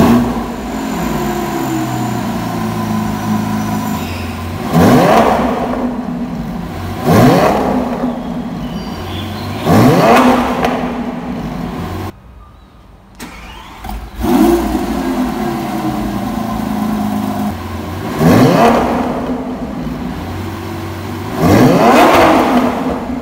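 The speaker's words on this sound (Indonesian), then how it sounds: "Sekarang kita dengar simponi dari V12 Lamborghini" A Lamborghini Aventador SVJ 63 Roadster's V12 engine revs repeatedly, each blip rising to a loud roar and falling back to a rumbling idle, with a brief lull midway.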